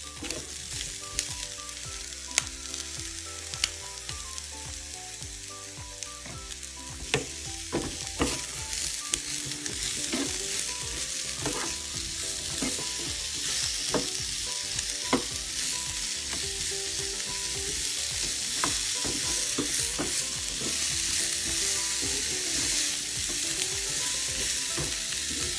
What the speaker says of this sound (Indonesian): Tumis sampai sedikit layu dan masukin sedikit garam.